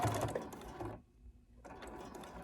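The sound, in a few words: sewing machine backstitching batik cotton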